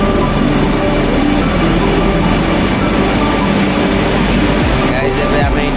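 A Kochi metro train rolls along with a loud, steady rumble of wheels and carriage noise throughout, heard from inside the car.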